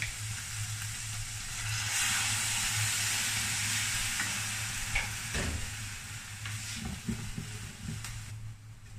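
Soy sauce and water sizzling in a hot frying pan for giniling noodles, a steady loud hiss that peaks early then slowly eases, with occasional stirring clinks near the end.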